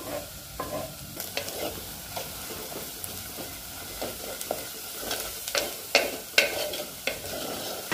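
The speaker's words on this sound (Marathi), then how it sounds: "कांदा आणि जिरा व्यवस्थित परतून घेतल्यानंतर तिखट टाकायचं आहे।" Chopped onion, garlic and cumin being stirred and sautéed in a pan for a wild-greens vegetable dish, giving a soft steady sizzle broken by irregular scraping and stirring knocks that grow louder toward the end.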